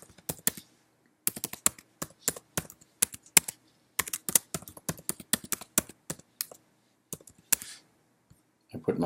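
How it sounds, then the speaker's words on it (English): Close, fairly quiet clicking of computer keyboard keys as a password is typed, with irregular bursts of keystrokes broken by brief pauses. "Now I'm going to give my password."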